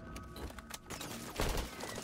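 AK-47 fire in the shooter game XDefiant rattles out in rapid bursts of sharp, close shots, with a short pause before another loud volley.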